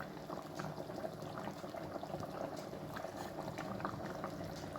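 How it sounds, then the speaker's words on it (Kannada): A jackfruit sambar keeps bubbling in a clay pot after the stove is switched off, giving a steady close simmering gurgle with dense small pops throughout and no talking. "ಅದು ಮಣ್ಣಿನ ಪಾತ್ರೆಯಲ್ಲಿ ಸ್ಟವ್ ಆಫ್ ಆದರೂ ಕೂಡ ಅದು ಕುದಿತಾನೆ ಇರ್ತೇನೆ"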